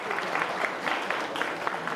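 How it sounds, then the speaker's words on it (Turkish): Applause at a Turkish wedding, a fairly faint but continuous patter of many hands clapping with slight rhythmic peaks, voices mixed into the background. "Alkışlar gelsin"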